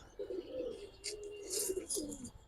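Pigeons of the Giribaz breed coo in low, drawn-out rolling phrases, close and fairly quiet, with faint higher chirps and rustling above.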